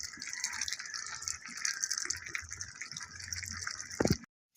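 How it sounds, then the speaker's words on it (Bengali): Hot water poured from a flask into a pot of curry gives a faint, continuous hissing trickle lasting several seconds before stopping abruptly. "এখন আমি গরম পানি দিয়ে দিচ্ছি ফ্লাস্ক থেকে।"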